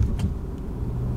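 A 2018 Volkswagen T-Roc compact SUV sits idling at a stop, giving a low, quiet, steady engine hum with a faint rustle near the start.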